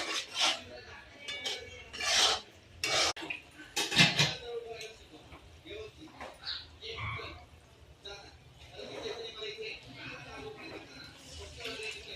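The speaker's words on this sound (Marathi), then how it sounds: "हळद, मीठ टाकून आता फ्राय करून घेतोय मसाला" Clattering and scraping of a utensil stirring masala with turmeric and salt in a pan for fish curry, with intermittent metallic knocks and a soft sizzle underneath, close by.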